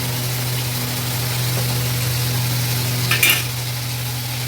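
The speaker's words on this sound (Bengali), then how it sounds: "একটু আগে ঘি দিচ্ছি, সামান্য ঘি দিচ্ছি" Ghee goes into a pan of doi-potol (pointed gourd in yogurt), giving a steady close sizzle with a low hum underneath and a brief clatter of stirring near the end.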